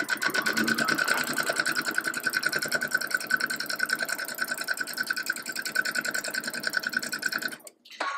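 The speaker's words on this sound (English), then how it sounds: "we're going to put it in the machine and sew at 1/4 inch all the way down" A sewing machine stitching a quarter-inch seam on a quilt block, a fast steady mechanical whirring with rhythmic needle ticks, close up, stopping abruptly near the end.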